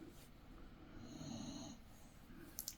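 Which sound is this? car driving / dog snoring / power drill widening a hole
dog snoring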